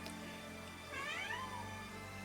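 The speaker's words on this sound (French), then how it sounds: "c'est rien, c'est le chat qui a vu une mouche." A house cat gives a short meow, a faint rising and falling cry about a second long over a steady background hum.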